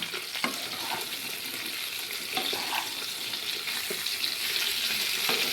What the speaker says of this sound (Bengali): এবার আমি আলু আর ফুলকপিটাকে একটু লাল লাল করে ভেজে নিব